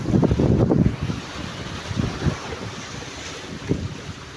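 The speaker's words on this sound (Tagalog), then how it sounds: "Medyo malakas ang hangin." Strong wind gusts buffet the microphone in loud low rumbles that rise and fall, with a faint wash of water in the background, near a boat.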